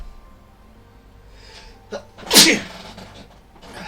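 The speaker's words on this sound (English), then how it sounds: "At least I sneezed away from the mic." Close, forceful sneeze from a person working at a painting desk, preceded by a brief sharp inhale-like burst and then fading into quiet room tone.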